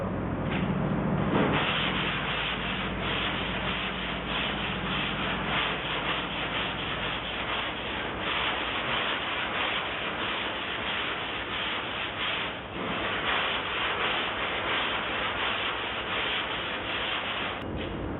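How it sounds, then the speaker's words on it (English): Continuous rhythmic scraping of sandpaper on body filler over a 1969 GTO car panel, a steady gritty rubbing that goes on at close range with no talking. "As soon as I start sanding, I'll know if something's up"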